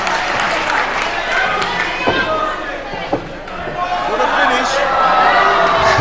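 A wrestling crowd watching a match between two wrestlers cheers and claps beneath a commentator's steady talk, with scattered thuds from the ring and the noise swelling toward the end.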